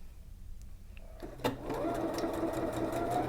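A sewing machine stitches a buttonhole, starting after a quiet pause and then running as a steady, close rapid whirring hum with fast regular needle ticks.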